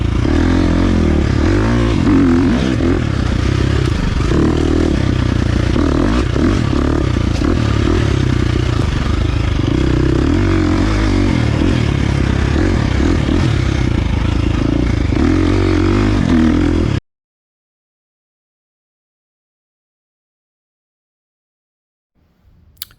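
A 2023 KTM 350 XC-F dirt bike engine roars and revs near the mic while riding through a corner, with wind rush and clatter, then cuts to near silence for the last six seconds.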